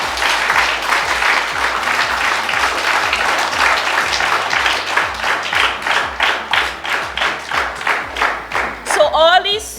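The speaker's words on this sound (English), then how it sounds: "so please give them a round of applause." Audience at a primary school graduation ceremony bursts into sustained applause, many hands clapping loudly and evenly, the clapping growing more rhythmic and distinct before it fades, with voices faintly underneath.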